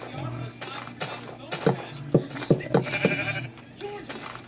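Sheep bleat in the video game Minecraft, a few short nasal cries spread across the clip, with a person talking over them and game clicks in the background.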